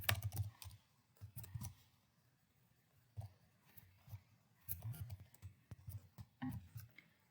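Typing on a computer keyboard while writing Java code: clusters of quick, close key clicks come in bursts separated by short pauses, with no one speaking.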